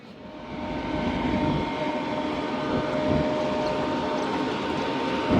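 Locomotive 9042, a GEU40, rumbles past hauling the Shalimar Express, a steady loud engine drone with faint rail clatter, rising gently and holding without talk.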